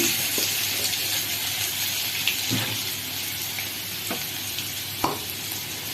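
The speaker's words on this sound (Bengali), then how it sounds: "5 ফোড়ন দিয়ে দিলাম, রসুন দিয়ে দিলাম" Panch phoron spices and garlic sizzle in hot oil with a steady, fairly loud frying hiss. A few sharp clinks and taps of a utensil cut in, and water runs faintly in the background.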